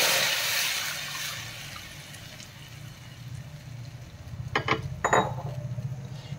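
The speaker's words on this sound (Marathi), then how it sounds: "आता मी ताक घालते हे आपलं।" Buttermilk pours into a pot of tempered spices for Gujarati kadhi. A rushing liquid hiss fades over the first seconds, followed later by a few light clinks of utensils against the pot. No talking.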